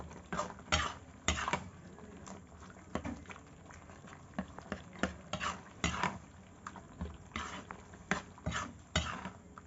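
Spices being stirred into a pan of kochur loti (taro stolon) and leaf curry with rui fish head, cardamom powder just added, giving repeated close scraping and clinking strokes of a spoon against the metal pan over a low simmer.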